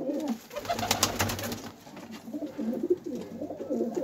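Soft, low pigeon coos repeat in a steady rolling rhythm, close by, with faint background noise and no talking.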